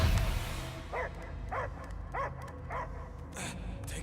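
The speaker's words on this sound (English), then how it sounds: "I hear only barking" A large creature in the video game Guardians of the Galaxy barks four times in a steady rhythm, loud and close, followed by a sharper yip, over a low rumbling game ambience.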